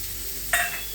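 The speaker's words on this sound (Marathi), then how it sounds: "तुम्ही आता परतून घेते कांदा" Chopped onion hits a crackling tempering of cumin, asafoetida and turmeric in hot oil, giving a sudden close sizzle burst midway that settles into a steady hiss.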